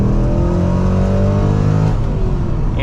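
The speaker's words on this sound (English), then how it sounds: "It sounds fantastic. This LS6 is a really potent engine." A 2001–2004 Corvette Z06 with an LS6 V8 revving hard under acceleration on the road, a loud, steady engine roar with rising harmonics that drop briefly as it shifts near the end.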